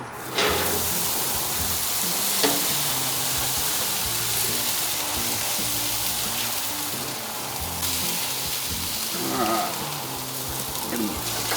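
Vegetables and corn sizzle on a hot outdoor grill in the United States, a steady broadband crackle and hiss that carries on evenly through the whole stretch, close and fairly loud, with a few sharper pops along the way.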